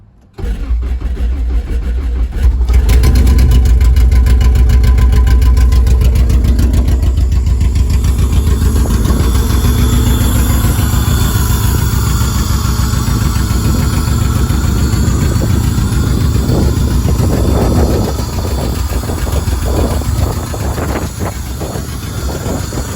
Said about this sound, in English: First startup of the K24 Del Sol.